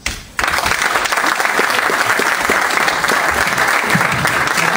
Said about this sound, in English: there was an applause earlier